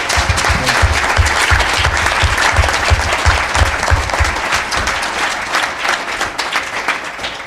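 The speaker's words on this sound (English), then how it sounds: "can we just give a really warm applause to all of our panelists" A conference audience gives the panelists sustained, loud applause, dense clapping that carries on for several seconds and eases slightly toward the end.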